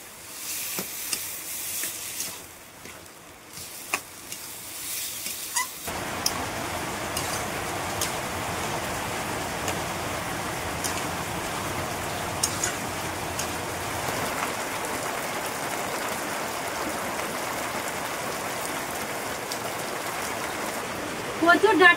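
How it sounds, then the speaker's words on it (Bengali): Boiled taro stalks being stirred into hot fried spice paste in a pan, giving a steady, dense sizzle that starts abruptly partway through and continues evenly, with faint stirring movements underneath. "এই যে ভালো করে এবার নাড়াচাড়া করে মিশিয়ে নেব।"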